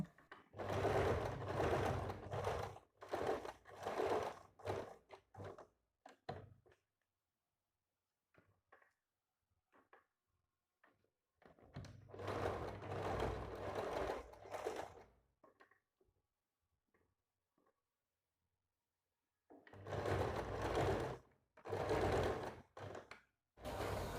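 Sewing machine stitching piping onto the belt of a size 36 Sabyasachi-style blouse, three loud continuous bursts of rapid mechanical stitching separated by quiet pauses with faint handling clicks.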